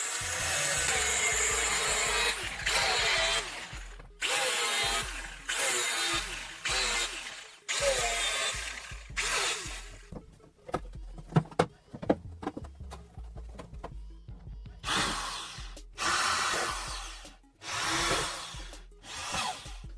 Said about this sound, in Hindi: अब इस मार्किंग के निशान से इसे हम कट कर लेंगे।